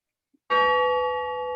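A single bell is struck once to open a Rotary Club meeting held over Zoom, giving a bright, clear ring that sustains and slowly decays on its own, close and loud.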